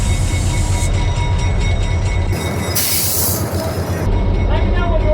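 A Stewartstown Railroad train rolls past the old engine house at a busy crossing, its wheels grinding loudly and continuously with some high squealing, and a voice is heard briefly under the noise.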